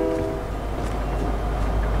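A train rumbles past in the Fortnite video game, played on Nintendo Switch, with a steady low mechanical roar and faint horn-like tones holding at an even level for the whole moment.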